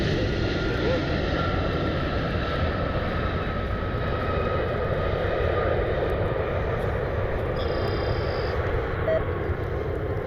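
An airplane takes off from the runway at Cleveland Hopkins airport, its engine roar a loud, steady broadband rumble that fills the whole stretch, with a faint tonal whine rising near the end.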